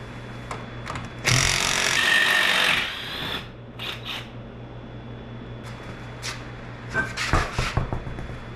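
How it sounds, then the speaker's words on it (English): A power tool, likely an impact wrench, unbolts tires with a loud rattling burst lasting about two seconds, followed by clanks, shorter rattles and handling noises over a low steady hum. "Let's unbolt some tires."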